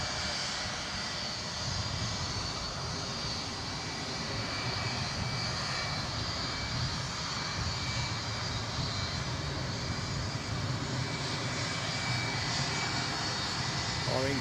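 An incoming Ryanair plane at Edinburgh airport roars steadily in the distance, a continuous engine drone that holds level for the whole stretch.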